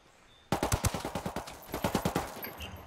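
Rapid video-game gunfire, two close bursts of automatic shots in quick rhythmic succession, loud and sharp after a brief quiet start.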